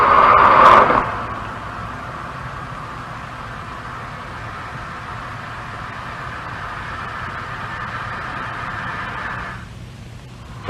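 Steady broadband hiss of compressible gas flowing through a channel with valve and piping noise, a loud rush that swells at the start and then holds nearly constant before cutting off near the end.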